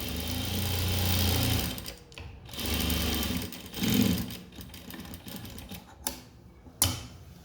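A sewing machine stitches blouse fabric in several short bursts of motor whirr and needle clatter, starting and stopping with brief pauses between runs, close and fairly quiet.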